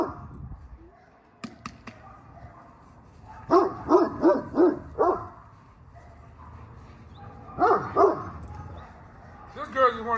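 A big dog named Duke barks in several clusters of quick, fairly close woofs separated by pauses, with a person talking in between.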